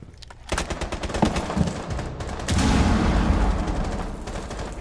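Assault rifle fire in Rainbow Six Siege, rapid bursts of loud close shots crackling in quick succession, with a heavier sustained volley in the second half.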